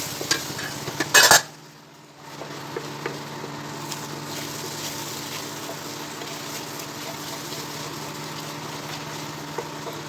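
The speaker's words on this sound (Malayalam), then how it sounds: "നല്ല ഇളക്കി കൊടുക്കാം." Chana gravy is stirred in a pan, with a soft, continuous scraping and light bubbling under a steady low background hum, after a brief loud clatter near the start.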